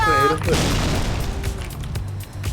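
A grenade explodes in the online shooter Sudden Attack during a ranked match, a loud opening boom that rolls into a rumbling tail, with players talking over it.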